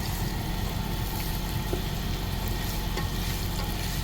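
Onions with Italian herbs sizzle in a pan inside a truck, a soft continuous frying hiss with faint stirring scrapes over a low, droning rumble.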